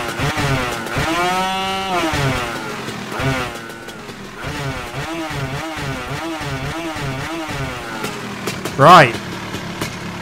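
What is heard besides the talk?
vintage scooter with Polini 135cc engine revving and riding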